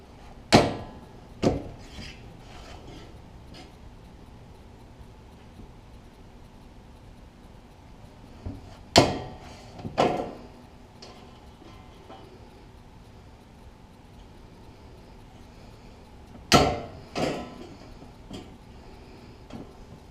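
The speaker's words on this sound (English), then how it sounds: "I'm going to punch the holes in the flanges first." Holes are punched in the metal flanges of a homemade tool box, heard as sharp, loud percussive strikes that arrive in spaced pairs, six hits in all with quiet gaps between them.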